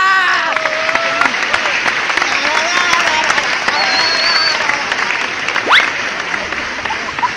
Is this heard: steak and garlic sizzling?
no